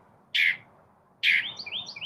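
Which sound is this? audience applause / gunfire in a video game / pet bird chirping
pet bird chirping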